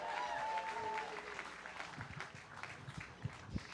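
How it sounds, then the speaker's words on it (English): An audience at a country music opry showcase applauds a singer after his songs, a soft, distant wash of clapping with a voice speaking over it. "Give him a nice round of applause"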